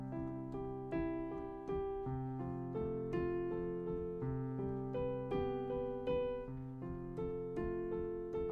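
Piano improvisation in compound 12/8 time, steady chords and a melody moving in lilting groups of three, played continuously at moderate volume with no talking.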